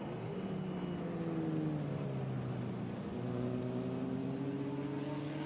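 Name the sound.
Corvette and Mustang race cars passing on track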